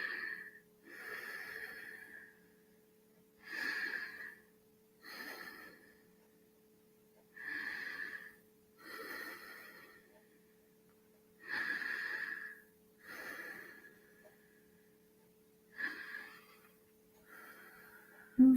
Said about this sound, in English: just do some nice breathing into that